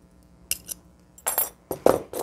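Stained glass pieces clinking and ticking against each other as a cut inside piece is worked loose and pulled free, several sharp bright clinks in short bursts, close up with no voices.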